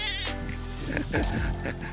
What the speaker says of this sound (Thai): อันนี้จะเป็นแม่แพะนะครับผม